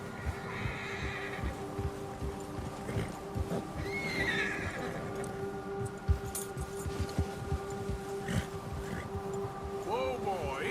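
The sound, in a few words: horse whinnying and hooves in video game Red Dead Redemption 2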